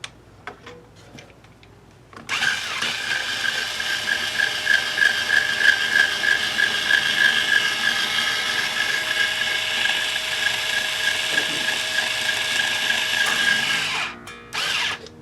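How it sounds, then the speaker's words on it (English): An Ernie Ball Power Peg Pro motorized string winder spins steadily for about twelve seconds with a loud whirring, ratcheting drone while restringing a Les Paul guitar. Quiet handling noises come before it and a short burst follows. "I've got the Ernie Ball Power Peg Pro string winder."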